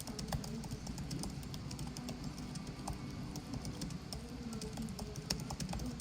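Light, quick keystrokes on a 2026 M5 MacBook Air scissor-switch keyboard tap out a soft, irregular patter, close and quiet against a faint background hum.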